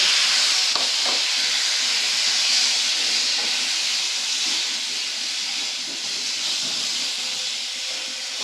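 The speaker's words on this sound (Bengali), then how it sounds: "নিয়ে এখানে যে আলুটা নিয়েছিলাম আলুটা ভেজে নেব" Sliced potatoes frying in hot oil with turmeric and salt give a steady, close, even hiss that holds for the whole stretch, with faint clicks and scrapes now and then.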